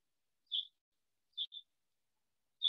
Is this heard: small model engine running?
no